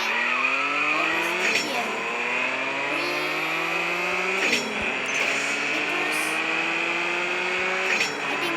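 A Ferrari 250 GTO race car in a racing video game revs hard through repeated upshifts, the engine note climbing and dropping several times with tire squeal, loud and continuous.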